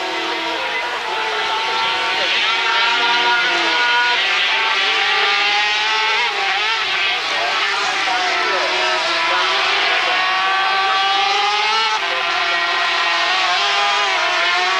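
Racing sidecar outfits at the 1997 Sidecar World Cup at Most scream past on the track, a continuous loud high-revving engine roar with shifting pitch as machines accelerate and change gear, under steady commentator speech.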